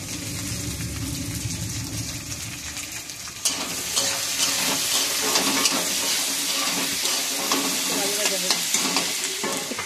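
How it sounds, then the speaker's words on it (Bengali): Chopped onions sizzle loudly in very hot oil with whole garam masala, with continuous scraping and stirring in the pan that grows busier and louder partway through. "একটু ভাজা হবে, মানে একটু লাল লাল টাইপের হয়ে যাবে পেঁয়াজটা।"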